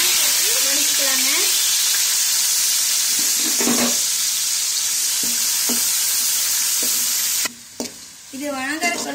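Mustard seeds, onion, tomato and curry leaves sautéing in groundnut oil, with a steady loud sizzle throughout, a few stirring scrapes, and a brief voice near the end.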